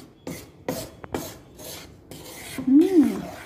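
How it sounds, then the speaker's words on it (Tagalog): Flour is stirred in a pan to make polvoron, giving repeated scraping, rasping strokes in an uneven rhythm, close up. A short vocal sound is heard near the end. "Continuous lang yung pag mixing."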